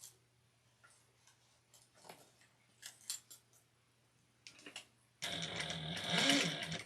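A domestic sewing machine stitches fabric for a Sallie Tomato Luci bag, starting after faint ticks and snips with a loud, steady run of close mechanical whirring and needle clatter that fills the final seconds.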